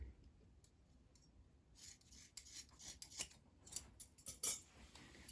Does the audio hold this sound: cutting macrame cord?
yes